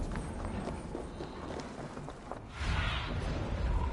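Hooves of the eight-legged horse in Assassin's Creed Valhalla running in a steady rapid rhythm, with a louder whooshing surge near the end, no talking.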